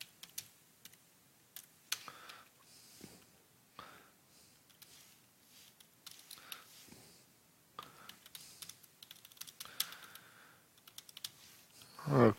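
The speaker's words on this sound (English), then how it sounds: "Just typing stuff in." Keys clatter on a computer keyboard in irregular bursts, quiet taps with short pauses between runs, close by in an otherwise calm room.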